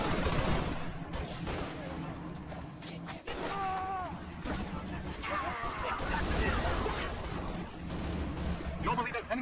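Sustained rapid gunfire from a Halo: Reach battle, with dense overlapping bursts running throughout, loud and continuous, mixed with game voices and radio chatter.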